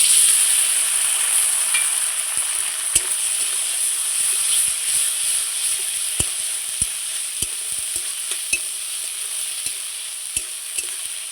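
A ground paste of ginger, cumin, chilli and garlic fries in oil, a loud, steady hiss and sizzle with scattered sharp pops and utensil taps throughout.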